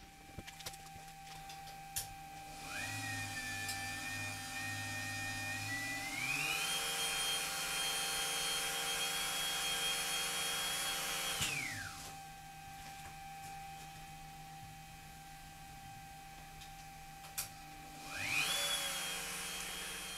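A Dremel rotary tool's high-pitched motor whine spins up to 10,000 rpm, holds steady at a piercing pitch, then winds down; a second brief spin-up follows near the end.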